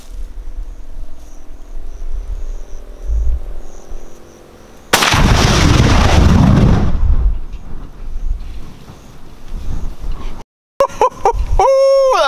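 A rifle shot sets off a propane tank: one sudden, very loud blast erupts and then roars and rumbles for several seconds before dying away. Voices talk before and after it.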